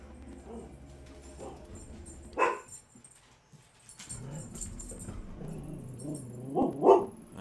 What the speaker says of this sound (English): Sorry, my pup's getting a little chatty.